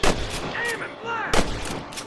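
Gunshots in the video game Red Dead Redemption: two sharp, loud blasts about a second apart, each with a short echoing tail, and faint voices in between.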